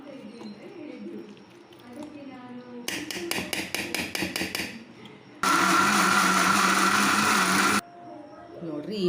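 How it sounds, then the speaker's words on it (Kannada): A kitchen mixer grinder jar blends mango cake batter in a loud, steady whirr lasting a couple of seconds, preceded by a burst of rapid rhythmic pulses and quieter kitchen sounds with someone talking around it. "ಮಿಕ್ಸ್ ಮಾಡಿಕೊಂಡು ಈಗ ಸ್ವಲ್ಪ ಮಿಕ್ಸಿ ಜಾರ್ ಹಚ್ಕೊಂಡ್ರಿ."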